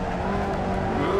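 A race car's engine roars loud and steady in the sim racing game Assetto Corsa, while its tires squeal briefly during a snap oversteer. No one speaks.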